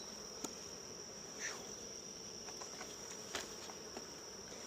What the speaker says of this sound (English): You can hear that hive roaring in there.